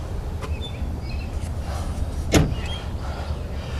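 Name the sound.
rear doors of a Gulfstream Vista Class B motor home swinging open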